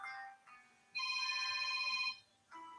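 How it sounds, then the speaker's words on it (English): A phone ringtone plays during a talk broadcast: a short tone, then one long sustained ring of about a second, then another tone starting, fairly close with no voices over it. "I've had some phone disturbing me."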